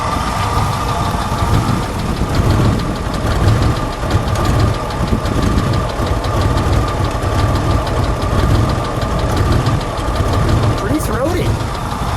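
Red 1964 Chevrolet Corvair Monza Spyder engine idling, a steady, slightly knocking mechanical rumble that stays even and close throughout, with a person talking quietly over it.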